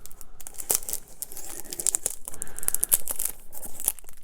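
A fragrance box being opened, its packaging crinkling, tearing and rustling close up in a busy continuous stream of crackles and rips, with no talking.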